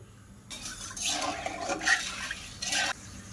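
Sugar and water stirred in a wok for sweet syrup, a few soft scraping swirls of a spoon against metal with light liquid sloshing, close and fairly quiet.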